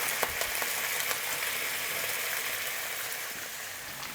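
Carrots and onions sizzling in a hot pan, a bright, even crackle that holds steady from start to finish with no voices over it.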